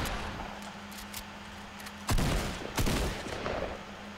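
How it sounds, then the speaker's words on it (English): A new gun firing in Fortnite Season 8, two sharp close shots a fraction of a second apart over a steady low hum and faint game ambience. "Oh yeah, that's a different gun sound."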